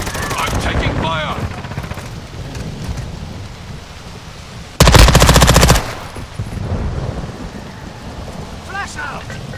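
A loud burst of automatic gunfire, about one second long, rips through the middle of a Call of Duty: Modern Warfare 2 team deathmatch, set against a rumbling, rain-like battle ambience and brief distant voices.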